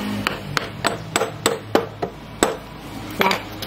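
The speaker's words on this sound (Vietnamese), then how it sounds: "Giờ các bạn lấy cán búa các bạn gõ này." A hammer handle taps a tricycle part into place on a three-wheeled cargo vehicle, about ten sharp, loud, close knocks in a fairly even rhythm with a short pause near the end.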